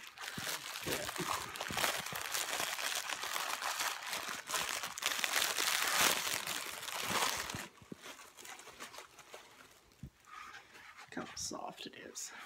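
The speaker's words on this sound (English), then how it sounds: "Now we're going to start using our extra toilet paper." Ariel 525 toilet paper crinkles and rustles up close in a soft ASMR setting, with busy dense crackling that thins out into scattered light rustles toward the end.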